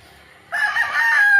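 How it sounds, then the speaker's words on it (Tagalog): A rooster crows loudly in a small backyard farm flock, the call bursting in abruptly after a quiet start and holding a long, rising strained note close by, with chickens around. "Ayan, mga manok natin."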